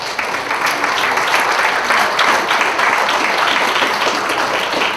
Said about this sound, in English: absolutely, a round of applause.